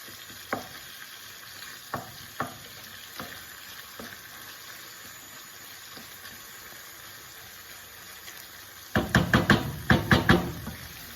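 Pork, fennel and shallots browning in a pan for a Sicilian-style sugo, a steady low sizzle with a few scattered stirring knocks, then a burst of louder clattering stirs near the end; no one speaks.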